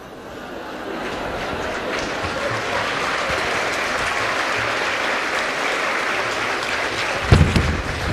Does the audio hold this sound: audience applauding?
yes